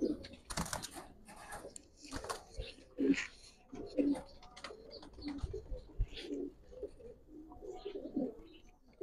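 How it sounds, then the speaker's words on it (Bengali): Giribaz pigeons coo in low bursts at close range, with handling noises, rustling and a few quiet voices talking around them. "এটা চিকন ফেদারের কবুতর।"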